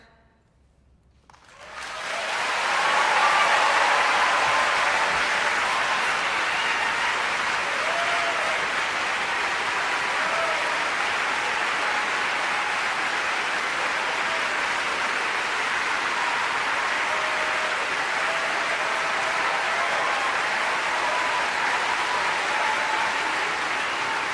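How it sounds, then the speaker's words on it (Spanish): Audience rises and bursts into sustained applause that swells within a couple of seconds and stays broad and steady, a dense rain-like wash of clapping carrying on to the end. "El mundo de pie aplaudiendo a esta mujer que nos entrega esta lección"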